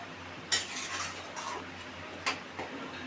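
A metal lid placed over a pan of chicken curry, with a sharp clatter, a second clink a little later and a lighter tap over a steady low hum.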